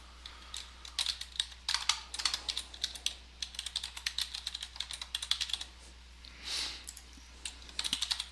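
Fingers type on a computer keyboard in quick, irregular bursts of light clicks with short pauses, close and quiet with no talk.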